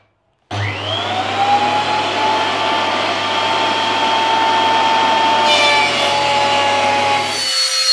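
Thickness planer fitted with helical blades feeding teak wood: a loud, steady, close-up machine whine and rushing cutter noise that runs continuously for several seconds, then shifts in tone near the end.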